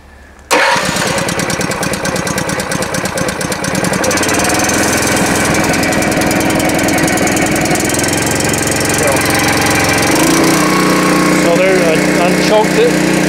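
A 23 HP engine on a power wash trailer runs steadily and loudly right after starting, a continuous close drone that shifts slightly in pitch near the end as the choke is adjusted.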